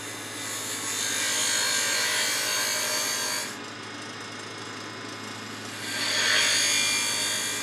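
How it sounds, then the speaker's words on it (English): A turning tool cuts into a spinning wooden bottle stopper on a wood lathe, giving a steady, close scraping and shaving sound that swells, eases off briefly, then rises again, with no talking. "Here's the bevel of the tool going straight in."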